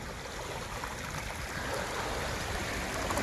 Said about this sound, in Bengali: ও কি আওয়াজ জলের